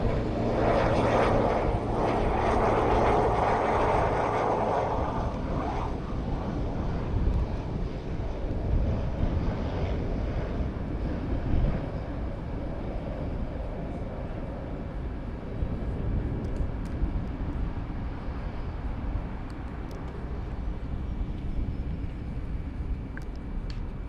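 A fixed-wing airliner departs San Juan's Luis Muñoz Marín International Airport, its engines roaring steadily under gusty wind noise, loudest early on and holding a broad rumble throughout.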